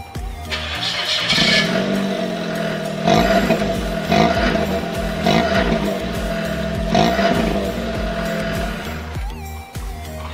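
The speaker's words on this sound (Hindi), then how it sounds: "तो सबसे पहले मैं इसका जो नॉर्मल साउंड है विद द रेजोनेटर मैं आपको सुनाता हूँ।" A car with a Valvetronic exhaust and its resonator still fitted idles and revs, giving a deep droning hum with repeated swelling blips of throttle, close by and with no talking.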